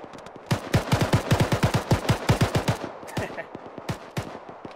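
Gunfire from an Arma battle in misty terrain, a rapid string of close, sharp shots in quick rhythm, followed by a few more scattered reports, loud and alone.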